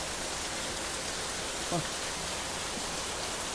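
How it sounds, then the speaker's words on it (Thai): Rain falls outdoors in a steady, soft hiss of drops on surrounding surfaces, with a faint voice briefly audible beneath the patter. "ฝนมันตก"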